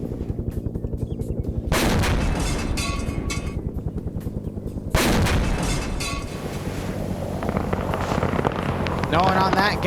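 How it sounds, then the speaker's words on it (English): Gunfire from ground troops in a Vietnam war video game, rapid bursts of automatic fire with louder overlapping stretches and a whirring helicopter-like drone behind, under occasional talk. "Got some ground fire going in, some GIs crossing over here."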